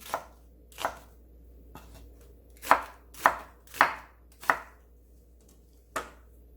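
A knife cuts through green vegetables on a cutting board in about eight distinct, close chops at an uneven pace, with quiet gaps between strokes.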